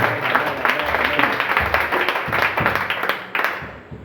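A church congregation claps together in lively, dense applause that continues for several seconds before tapering off, with some voices mixed in.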